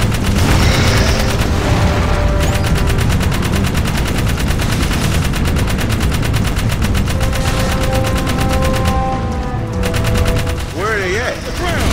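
Rapid, loud automatic gunfire hammers on without a break while an enemy is shot down in Jak 3, dense bursts filling the whole stretch, with a voice audible under the shooting.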